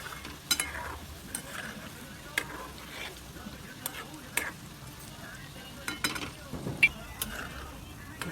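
Shankarpale sweet pastries frying in oil over a medium gas flame, a low continuous sizzle broken by scattered clicks and clinks of stirring, with quiet talk at times.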